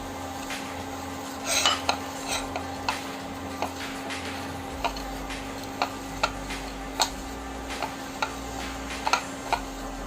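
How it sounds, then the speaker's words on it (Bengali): Chopped onion being mashed by hand with chilli in a bowl for a yardlong bean bhorta: a steady run of close, sharp little clicks and taps over a low constant hum, with no one talking. "এখন এই পেঁয়াজটা আমি মরিচের সাথে ডলে নেব।"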